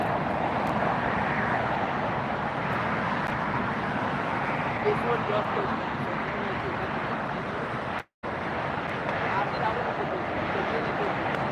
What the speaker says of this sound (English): Qantas A380 pushing back and heading out now for north side departure.